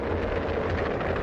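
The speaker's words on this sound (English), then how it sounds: "This rumbling noise you hear here is coming from 2 tanks, which are parked on 12th at the boulevard." Two military tanks parked on a city street start moving, giving off a low, steady, wind-buffeted rumble heard from a distance with no talking.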